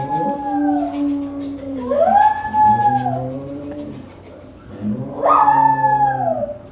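Several dogs howl like wolves, with long rising and falling howls overlapping in two loud, close waves separated by a quieter gap.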